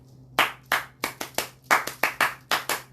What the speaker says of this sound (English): And the family clap.